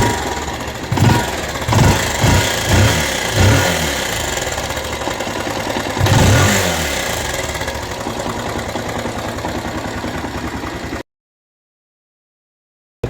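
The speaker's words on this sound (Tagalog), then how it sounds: "napaandar ko na yung motor mo" A Bajaj Rouser 180 motorcycle, long left unused, runs after its very dirty carburetor was cleaned, giving a few sharp revs before settling into a steady, loud, rough idle that cuts off abruptly.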